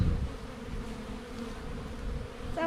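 Honeybees buzz steadily around an opened five-frame hive during a frame inspection, a close, continuous drone with a single bee whining past at the very end.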